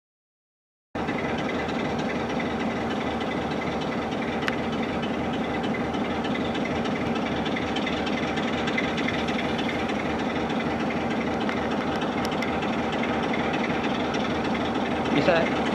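A diesel-electric train rumbles past steadily for over fourteen seconds, a loud continuous engine drone with a faint wheel rattle, heard from beside the tracks near a lake.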